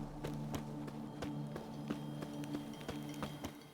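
Horses at the stables in The Witcher 3 make steady clip-clop hoof taps over a low droning background, evenly spaced and moderately close.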